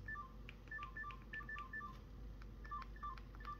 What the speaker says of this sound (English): it does make some nice noises when you press the buttons